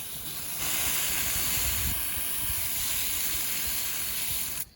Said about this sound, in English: Gently rinse those off.